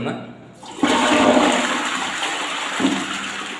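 A ceramic toilet bowl stained yellow by borewell water is flushed: after a quiet moment, loud rushing water bursts in close to the microphone and keeps pouring steadily, with a gurgle near the end.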